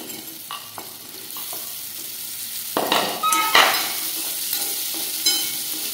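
Okra tipped into hot oil with green chilli and garlic and stirred in a pan: a continuous sizzle with light clinks and scrapes of a spoon, building into louder bursts of frying as the vegetables go in.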